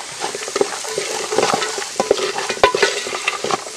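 Coconut pieces frying with turmeric in a pan at an outdoor camp cooking a wine beef curry, with an active crackling sizzle and irregular stirring scrapes and taps close by.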